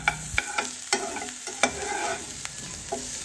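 Dried chilli, onion and garlic fry in a little mustard oil while being stirred, giving a steady close sizzle broken by sharp scraping and clattering strokes, with no voices.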